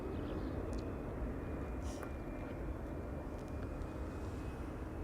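Delta Airlines Airbus A330-300 arriving at Amsterdam Schiphol from Atlanta, a steady broadband jet roar that holds evenly loud and fairly distant throughout, with no voices.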